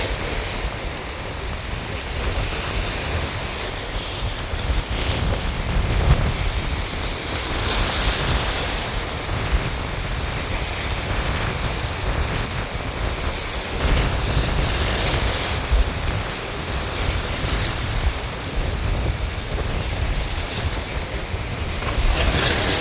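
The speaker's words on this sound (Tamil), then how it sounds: "சில நேரங்களில் அலைகள் வந்து சின்ன அலைகள் வருது, சில நேரம் ஒரு பெரிய அலைகள் வருது." Stormy sea waves surge and wash along the Mathagal coast in Jaffna as light rain begins, forming a continuous loud roar of surf with gusting wind buffeting close by.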